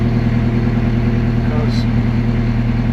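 A lorry engine idling low while reversing a trailer: a steady, close, rumbling drone with an even pulse that stays constant throughout.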